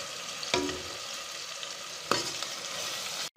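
Spices frying with tomatoes in oil for a bottle gourd and chana dal curry, a steady broadband sizzle broken by two sharp stirring scrapes, close and fairly loud, ending in an abrupt cut.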